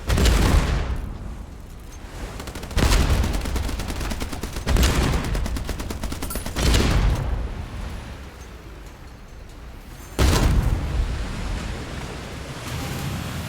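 Ship cannons fire in naval boat combat in the video game Age of Water, a series of heavy booming blasts spaced a few seconds apart, each fading into a rumbling wash of water and ambient noise.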